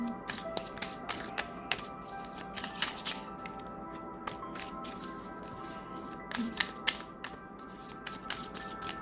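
Playing cards being pulled and shuffled from a deck during a tarot-style card reading, a steady run of close, soft papery flicks and snaps with no talking.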